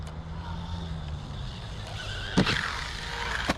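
A 1/16 scale RC basher car runs near full throttle with a steady, close motor whine. Two sharp knocks from bumps or landings cut through the whine.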